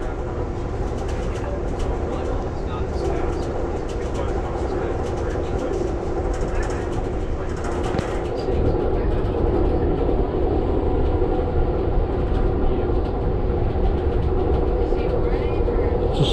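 Inside an Amtrak passenger train running south from Chicago toward New Orleans, a steady, loud rumble of wheels on rails fills the cabin without break, with faint rattling and clicking layered over the constant drone.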